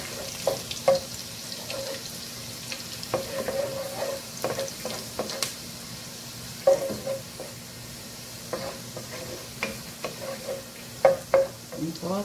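Garlic frying in a pan until golden, a steady low sizzle with scattered sharp stirring scrapes and clicks, close and moderately loud, no voices.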